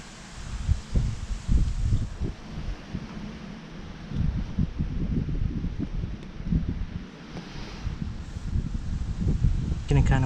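Wind gusts across an outdoor spot where an Eastern white pine bonsai is being cleaned up, a low rumbling buffet against the microphone rising and falling in irregular bursts, with a person talking over it.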